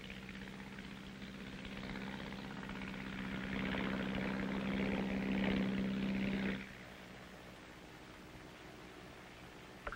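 A 1951 artillery fire control plane flies overhead in Korea, its propeller engine a steady, loud drone that swells for several seconds and then cuts away abruptly to a quieter hum.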